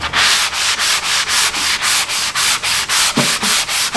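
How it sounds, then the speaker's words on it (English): Light hand sanding on a dye-stained quarter sawn oak chest, a loud, close rhythmic scrubbing of even back-and-forth strokes, about four per second, with no talking. "But I want to give it a light sand"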